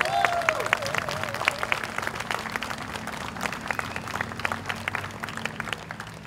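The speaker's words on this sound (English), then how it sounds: "Can we give him a round of applause?" A crowd at a May Day protest rally claps in sustained applause, dense and steady, with a few scattered voices mixed in.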